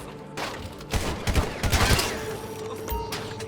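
Gunfire during a GTA Online heist, a burst of rapid overlapping shots in the middle of the moment, fairly loud against a game background, with a voice heard briefly.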